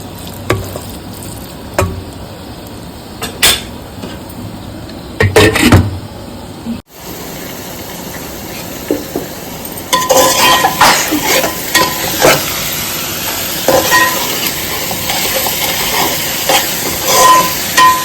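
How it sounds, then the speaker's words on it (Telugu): Tomatoes fry in a pan for a banana curry while a spoon stirs them, a steady sizzle with intermittent scraping clinks that grows busier and louder partway through. "ఇలా టమాటా కూడా ఫ్రై అయింది."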